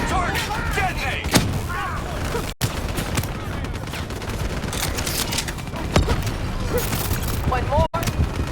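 Explosive blasts and rattling gunfire in the Black Ops 3 campaign, a dense continuous barrage with sharp booms near the start and end, mixed with shouted voices and radio chatter.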